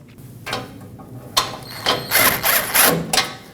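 A hand ratchet snugs down the lower bolts of the front bumper impact absorber on a 2005-2021 Nissan Frontier. Loud bursts of rapid clicking come in short repeated strokes, with brief pauses between them.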